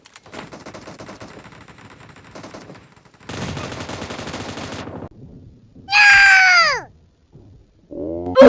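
Gunfire in the PUBG Mobile video game, with rapid bursts of shots, a loud sustained volley, then sharp high game effects and a final loud shot, all close and without speech.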